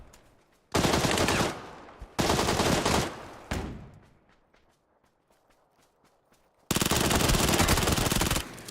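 Bursts of automatic gunfire in a console battle royale game: three loud, rapid rattling volleys in the first few seconds with fading echoes, a quieter stretch of light clicks and steps, then another long sustained burst near the end.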